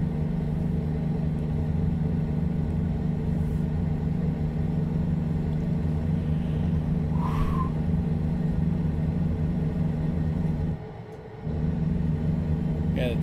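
Volvo VNL 780 semi truck cruising at highway speed around 70 mph, a steady loud low engine and road drone throughout with a brief dip near the end.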